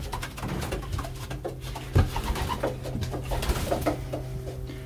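A young pied racing pigeon cooing softly while being handled close up, a low, steady murmuring coo running throughout with a few soft rustles and thumps of handling.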